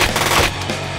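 Rapid automatic gunfire from an action movie trailer for Payback: Debt Collector 2, a dense loud burst of shots running continuously for about a second, close and without speech.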